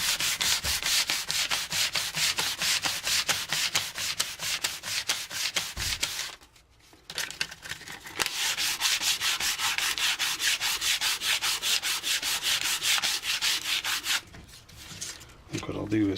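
Porch wood is rubbed by hand with old 150-grit sandpaper in quick, even back-and-forth strokes, a close, steady scratching rasp that pauses briefly twice.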